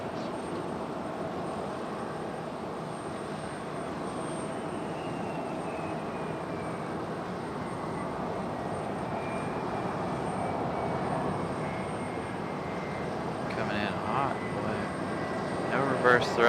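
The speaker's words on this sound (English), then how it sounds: "Reverse thrust." A jet airliner rolls out after landing at Raleigh-Durham International Airport with a broad, steady engine roar as reverse thrust builds, swelling slightly toward the end with faint voices nearby.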